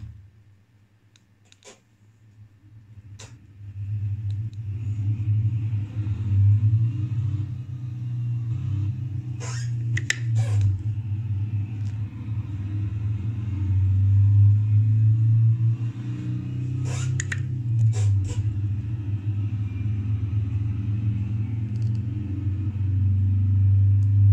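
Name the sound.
VW camper engine rumbling while driving, from a racing video game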